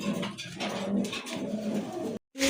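Red Rasgolla pigeons coo in a loft, low burbling calls repeating close by with steady throaty pulses, ending in a brief break before another coo starts.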